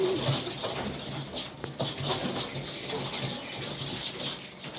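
Teddy pigeons, a breeding male and its young, cooing on a rooftop in Chhapra, Bihar; soft, low repeated coos at moderate distance with faint background rustle and no speech.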